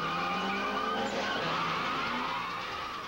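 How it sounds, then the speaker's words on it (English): Cars race illegally on the streets of Los Angeles, and a steady, loud tire squeal and skid with engine noise lasts the whole three seconds. "Now we'll take you inside the real world of illegal street racing on the streets of Los Angeles with all its thrills and its dangers."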